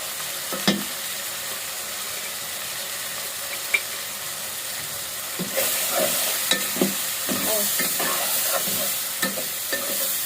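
Tomato frying with salt and turmeric in a pan, a loud steady sizzle throughout, intensifying partway, with occasional spoon scrapes and taps as it is stirred.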